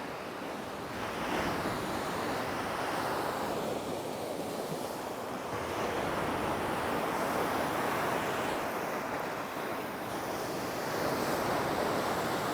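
Storm-driven waves pound the Lake Superior shore in a continuous, loud roar, with surf washing in and out and wind buffeting the microphone throughout, with no voices.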